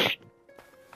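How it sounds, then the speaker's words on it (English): A single sharp sneeze bursts out loudly at the start, then fades into quiet room tone with faint background hum. "Sorry about the sneezing, you two."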